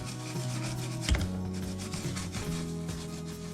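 Homemade beeswax oil is rubbed by hand onto a wood-burned cottonwood bark carving, a steady close dry rubbing and rasping with one sharper knock partway through.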